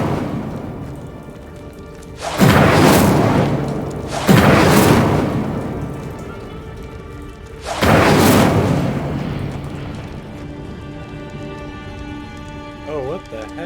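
Three heavy whooshing fire bursts from the Incendio spell in the Hogwarts video game, each a loud roaring blast that fades slowly, spaced a couple of seconds apart.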